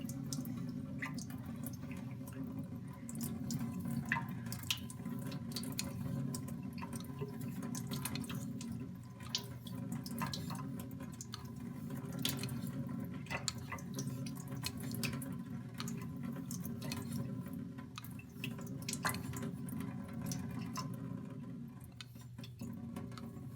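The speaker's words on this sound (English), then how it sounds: "under running water" Tap water runs steadily over a straight razor during a geometry check, a continuous broadband wash with faint drips and clinks, no talking.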